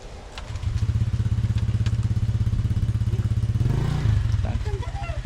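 A motorcycle engine idles and putters steadily and close by, its newly fitted exhaust pipe giving a loud, even throb. The idle dips and surges briefly near the end, with a few light clanks over it.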